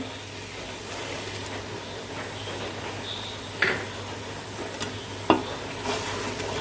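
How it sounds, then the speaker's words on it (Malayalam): A spoon stirs homemade yogurt into fish biryani masala in a pan, making a soft steady wet sizzle with a few sharp clicks of the spoon against the metal, close by with no talking. "കൂടെ തന്നെ 1 കപ്പ് തൈര് ഞാൻ ചേർക്കുകയാണ്."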